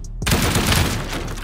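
Rapid automatic gunfire in the game Rust, aimed at a loot box holding ammo and backpacks, a dense loud burst that starts suddenly after a brief quiet moment and continues without pause.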